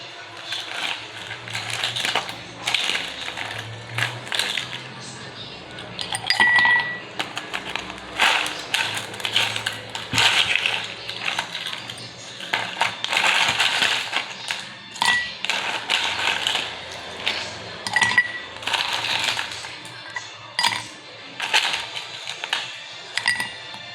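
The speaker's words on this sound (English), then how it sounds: "Prepare a serving glass, fill it ice cube" Small hard clinks and rattles repeat irregularly as ice cubes drop and knock into a serving glass for dalgona coffee, fairly close, with a low hum underneath.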